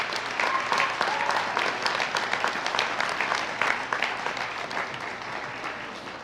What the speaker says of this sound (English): Graduates, I would now ask that you give them a round of applause for those who have sacrificed and